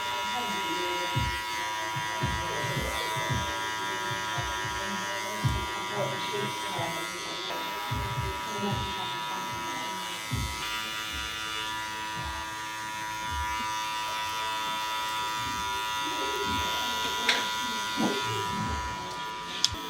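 Electric hair clippers buzz steadily while cutting hair clipper-over-comb for a short, blended men's style, the motor whine continuous and close with faint snips and brief pauses as a barber talks over it.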